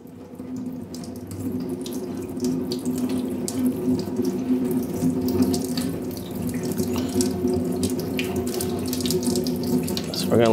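Coolant pouring steadily out of the drain on a Massey Ferguson 240 tractor, a continuous close splashing gush of liquid that holds level throughout with no talk over it.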